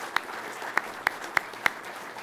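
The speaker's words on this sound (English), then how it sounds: "So a big round of applause." Only a handful of separate hand claps ring out, five sharp and evenly spaced, against a quiet room at an air force pilot training graduation as the maintenance team is thanked.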